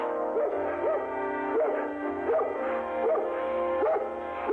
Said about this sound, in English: Hey, Ronnie, will you keep that dog quiet?